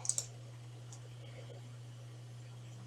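A few quick, close computer mouse clicks at the very start, faint against a steady electrical hum and room hiss.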